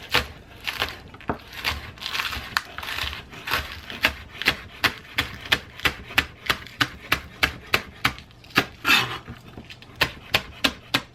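A knife chops a ramen garnish on a board in a home kitchen, a steady run of crisp, evenly spaced cuts repeating close and clear for the whole stretch.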